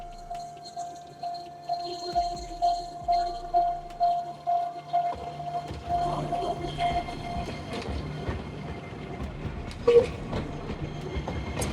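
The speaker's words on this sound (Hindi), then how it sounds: "अभी तो बस मैं आपको ट्रेन दिखा रही हूँ।" A train passes in Kamakura, Japan, with a steady hum and rhythmic rumbling that builds into a louder clattering roll of wheels, heard at moderate distance amid outdoor ambience.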